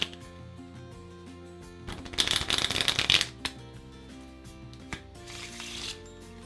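A bridge-size deck of playing cards is riffle shuffled by hand at speed, giving a dense, loud ripple of card flicks lasting about a second, followed by a few soft taps and a quieter second riffle.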